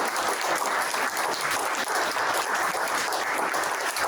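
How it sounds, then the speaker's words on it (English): A steady round of applause from an in-person audience for a discussion panel, even and sustained throughout with no speech on top. "can we break the silence with a round of applause for this panel"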